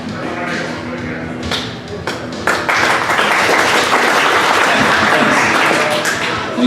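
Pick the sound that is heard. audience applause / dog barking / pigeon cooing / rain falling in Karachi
audience applause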